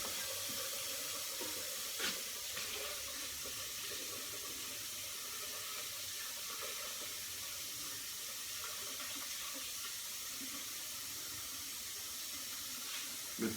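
Hot water runs steadily from a kitchen tap while pie and soufflés are being prepared, a continuous soft hiss and splash with no talking over it.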